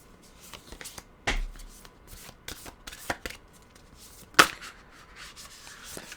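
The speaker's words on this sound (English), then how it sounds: "we'll get a Nature's Whispers card out here" Oracle cards from a Nature's Whispers deck being shuffled and drawn by hand, a run of soft papery riffles and slides with a few sharper snaps, close and fairly quiet, with no talking.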